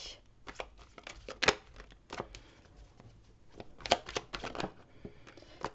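Tarot cards shuffled by hand for a reading, a run of quick riffling bursts and soft flicks, close and fairly quiet, with no talking.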